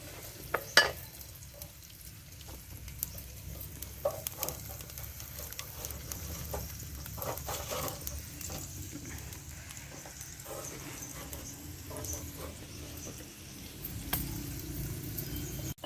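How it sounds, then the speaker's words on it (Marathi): Onions stirred and sautéing in oil in a pot over a wood-fired stove, a faint steady sizzle with intermittent scraping and knocks of the spoon, quiet and close. "तेल टाकले दोन पळ्या कांदा टाकायचा परतायचा असं छान कलर तांबूस येईपर्यंत"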